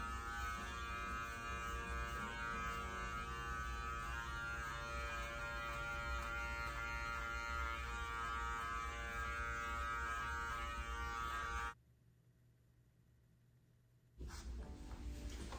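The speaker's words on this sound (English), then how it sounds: "Using the Artero Spectra clipper set on a 10 blade, I'm going to trim his belly." An Artero Spectra electric clipper fitted with a 10 blade trims a Schnoodle dog's belly, giving a steady close buzz that cuts out briefly near the end and then resumes.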